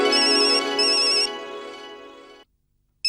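A telephone ringtone rings loudly and steadily in a repeating electronic melody for over two seconds, then cuts off abruptly into silence before a brief burst at the end.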